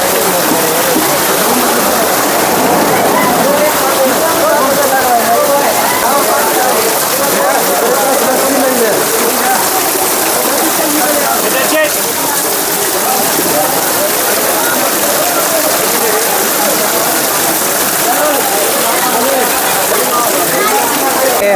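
Heavy rain pours steadily on a mountain trail beyond Gaurikund on the route to Kedarnath, a dense, loud and constant hiss with water running over the path and no talk.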